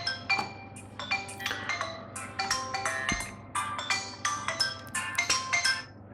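A mobile phone's ringtone plays after being triggered remotely through Find My Device, a bright repeating chiming melody in quick bursts, close and fairly clear over a low background hum.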